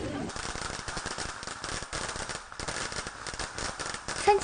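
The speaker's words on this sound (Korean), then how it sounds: "겨울산의 정적을 깨는 요란한 폭죽 소리" A long string of firecrackers pops and crackles nonstop at a mountain spirit ritual on a winter mountain during a loggers' festival, loud and dense throughout.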